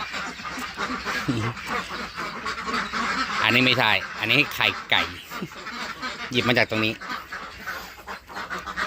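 Yi Liang ducks quacking and honking repeatedly on a farm, clear bursts close by amid a busy flock, with someone talking over them throughout.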